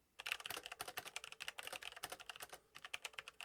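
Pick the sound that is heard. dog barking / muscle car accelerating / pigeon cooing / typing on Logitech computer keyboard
typing on Logitech computer keyboard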